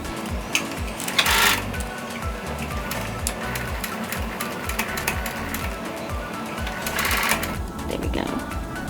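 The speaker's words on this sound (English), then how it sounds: "let's jump on over to the sewing machine" A sewing machine stitches fabric for a nursing bra, running steadily in rapid mechanical bursts close by, with a couple of brief louder swells and no talking.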